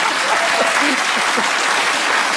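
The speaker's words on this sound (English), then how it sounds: "That's got the biggest round of applause." A studio audience at a British comedy panel show breaks into a dense, sustained round of applause, loud and continuous with a faint crowd murmur.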